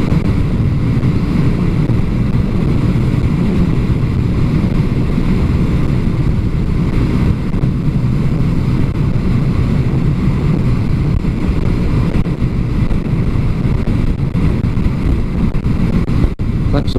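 Strong wind buffets a rider on a Dragstar motorcycle, a loud, continuous roar and rumble of gusts across the microphone that lasts throughout.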